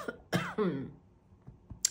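A few sharp coughs close to the microphone, bursting out in quick succession with short pauses, the last one brief and higher-pitched.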